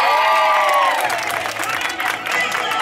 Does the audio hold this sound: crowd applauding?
yes